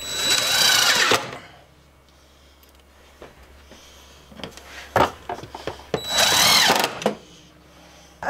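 Power drill driving screws into a wall while tiling a kitchen backsplash in a converted school bus: two loud, close bursts of whirring a few seconds apart, separated by quieter clicks and handling noises.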